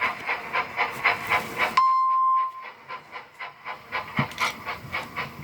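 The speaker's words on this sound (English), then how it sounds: "Thomas was puffing along with Lily and Junior on board" A steam locomotive on a children's railway story soundtrack chuffs in a steady, regular rhythm, broken by a brief sharp hiss of escaping steam before the rhythmic puffing resumes.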